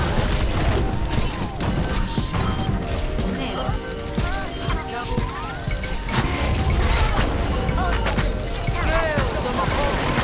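A video game's special attacks produce a dense, loud wash of crashing, whooshing and clanking effects with sliding tones, under excited talking.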